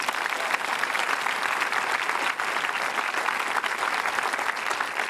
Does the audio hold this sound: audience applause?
yes